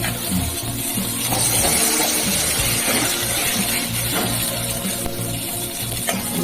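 Pointed gourd, okra and ridge gourd fry in a little oil with salt and turmeric, giving a steady close sizzle with occasional stirring clinks throughout, no talking.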